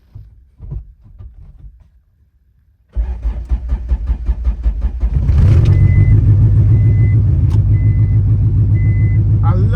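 Quiet fumbling, then a turbocharged Honda Civic engine cranks and catches, settling into a loud, steady, throbbing idle close by, with a faint intermittent beep.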